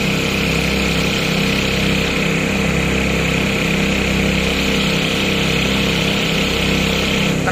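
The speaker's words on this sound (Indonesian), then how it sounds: "Ini kita lihat mesinnya. Seperti ini mesinnya. Kecil aja mesinnya." The small engine of a floating Alkon water pump used for spraying thick mud runs at a steady, loud idle close by, with an even rhythmic chugging throughout.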